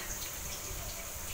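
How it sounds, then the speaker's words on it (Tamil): Half a tumbler of water being poured over jaggery for a sweet kolukattai filling, a brief close splashing pour that stays steady and unbroken, with no speech. "வெல்லத்தை அரை டம்ளர் தண்ணி ஊற்றி"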